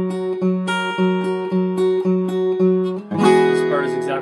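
Acoustic guitar plays the chorus of a song, a steady run of plucked notes that ends in a fuller strummed chord, close and alone with no talk.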